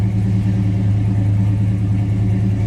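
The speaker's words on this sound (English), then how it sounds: "Take a listen to that 360 underneath the hood." A 1978 Chrysler Cordoba's original 360 V8 idles steadily under the hood, giving a continuous, deep, even rumble that stays close and loud throughout, with no voices.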